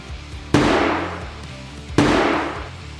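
A door coated in a toughening paint is struck hard twice about a second and a half apart. Each blow is a loud, sharp bang that rings and fades, heard close with no talk over it.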